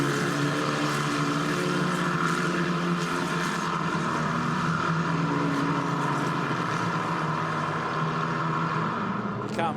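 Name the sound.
Formula 4 race cars driving at the Nürburgring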